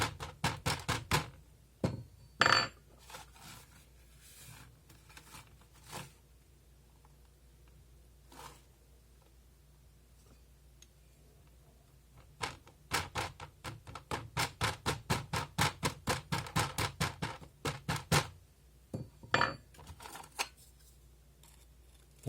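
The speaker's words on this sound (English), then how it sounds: "You can use a hammer of some sort to hammer this in" Repeated quick hammer taps, dry and muffled, pack wax ring models into casting sand, coming in bursts of rapid strikes separated by short pauses.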